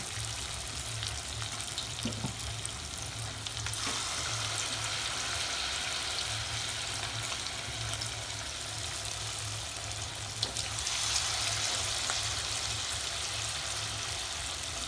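Chicken lollipops fry in hot oil on a low gas flame, giving a continuous close sizzle and bubbling that stays even throughout, with no talking over it.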